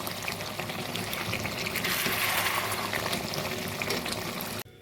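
Mutton curry with Kashmiri red chili powder and fried onions is stirred in a hot pot, producing continuous sizzling and wet scraping, fairly soft, ending with an abrupt cut.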